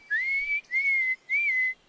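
Three clear, sustained whistled notes in a row, each held about half a second, close and alone against silence.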